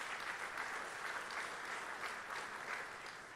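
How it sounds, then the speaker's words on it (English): Audience at a sheriff's office awards ceremony gives sustained applause, a steady, even wash of clapping from a crowd with no voices on top. "Please, a big round of applause."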